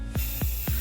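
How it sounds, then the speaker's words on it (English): Three short bursts of aerosol spray paint directed at water for hydro dipping hiss in an even rhythm, each quick spritz fading fast, close to the microphone with no talking. "you do not want to spray too close to the water because if the water flips up on top of the paint"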